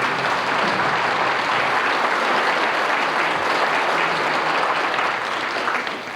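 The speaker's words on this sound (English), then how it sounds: "Give him another good round of applause" A reunion audience breaks into sustained applause, a dense, even patter of many hands clapping for about six seconds before easing off at the end.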